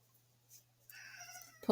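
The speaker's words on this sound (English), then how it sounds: "If you hear something, that's my cat calling out," A house cat calls out indoors with a single drawn-out meow near the end, faint and alone, in a quiet room with a low steady hum underneath.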